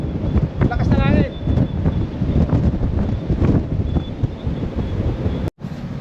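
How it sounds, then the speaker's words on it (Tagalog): Strong wind buffets the microphone in a steady roar aboard a ship transiting the Strait of Magellan, with a voice speaking faintly underneath and a brief dropout near the end. "Ayan lakas ng hangin"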